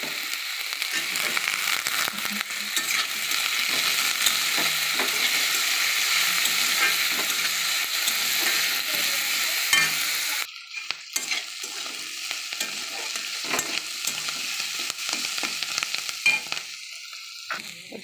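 Spring onions and green chilli frying in a pan for a vegetable Maggi dish, a steady loud sizzle with stirring scrapes throughout, easing partway into sparser crackles and clicks of the spatula, close by with no talk.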